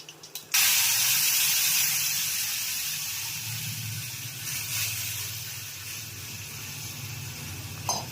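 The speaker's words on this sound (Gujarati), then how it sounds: "મેથી શાકનો વઘાર થાય છે" Cumin and mustard seeds hit hot oil while tempering fenugreek curry, giving a sudden loud sizzle that holds as a steady hiss and slowly fades over several seconds.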